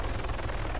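A video-game helicopter drones with a steady, close, rhythmic rotor chop throughout a short moment, with no voices.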